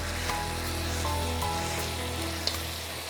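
Chicken pieces sizzle with spices in a hot pan, a steady close frying hiss with light crackles and a faint underlying hum.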